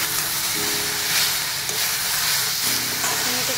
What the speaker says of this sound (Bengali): দিয়ে চিনিটা দিয়ে আমি একটু নাড়তে থাকবো।